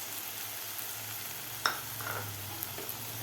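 Fresh peas sautéing in cooked masala in a pan for aloo gobi matar, a quiet sizzle with a few light stirring clicks.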